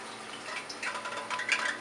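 A small drop of water sizzles and bubbles in hot cooking oil on an electric stove, a soft, crackly hiss that swells with brief louder pops near the end.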